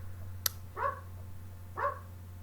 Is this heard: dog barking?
yes